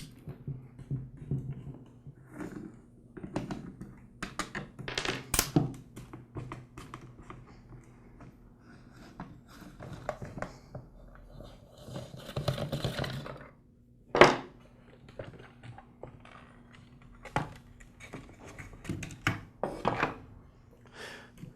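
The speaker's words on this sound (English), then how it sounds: "I'll get started by removing the housing. The housing is secured with a series of screws." Screws are taken out of the housing of a Ryobi 132R string trimmer, giving scattered close clicks, taps and scrapes of a screwdriver and plastic parts in irregular bursts against a faint steady hum.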